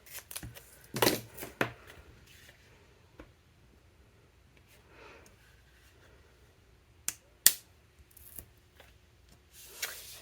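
Scissors cutting a paper piece for a handmade beach-themed mini album, a few sharp, close snips and paper rustles scattered among quiet pauses, the loudest cuts near the start and middle.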